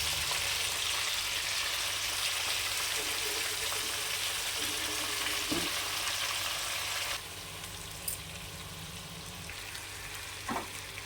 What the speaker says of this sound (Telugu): సిమ్లో పెట్టుకుని వేయించుకోవాలి ఫ్రెండ్స్